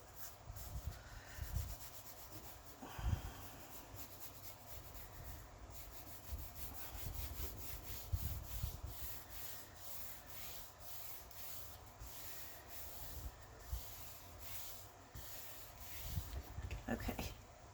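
Paper is smoothed by hand over glue on a mixed-media Halloween journal cover, producing repeated soft rubbing and swishing strokes, close and fairly quiet, with occasional light taps.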